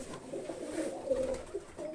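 A male Zamojski pigeon coos close by, a soft, continuous rolling coo that swells and dips across the clip with no talk over it.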